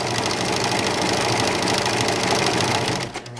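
A serger sewing machine runs fast and loud, stitching folded fabric for a pillow in a steady close mechanical whir that slows and stops near the end.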